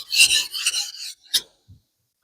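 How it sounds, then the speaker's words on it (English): Short bursts of wet rasping as a knife blade is stroked across a wet whetstone, two quick strokes then a brief scrape and a faint tap, close and alone. "Do a little bit of quick paste sharpening here."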